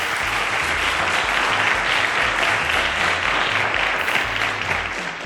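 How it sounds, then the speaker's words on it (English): Sustained audience applause for a senior-category contestant at a televised school quiz show, a dense, steady wash of many hands clapping at even loudness throughout, with a low hum underneath. "A round of applause to Mahmud."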